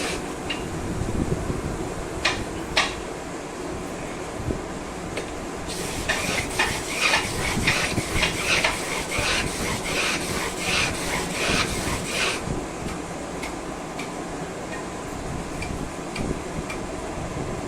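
A steel chisel is rubbed back and forth on a sharpening stone to work off the burr and true the edge: a run of rhythmic, gritty scraping strokes in the middle, over a steady background hum.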